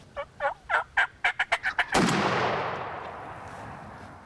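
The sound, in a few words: wild turkey gobbling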